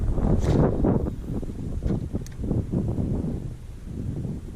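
Strong wind gusts buffet the microphone out on open water aboard a bass fishing boat on the upper Chesapeake Bay, giving a loud, steady, low rumbling roar with no one speaking.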